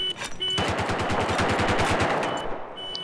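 Light machine gun fire in Battlefield 4, a sustained automatic burst of rapid, evenly spaced shots lasting nearly the whole moment, loud and close with a busy battlefield wash behind it, no talking.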